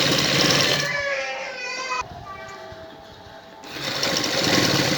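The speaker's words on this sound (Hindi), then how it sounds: "इस तरीके से सिलाई लगाएंगे" A sewing machine stitches the neckline of a kameez in short bursts, a loud whirring run, a pause into quieter stitching, then the motor picking up again.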